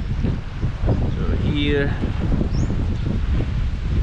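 Wind rushes steadily across the deck of a ferry boat, a continuous broadband buffeting near the microphone, with a person talking briefly over it.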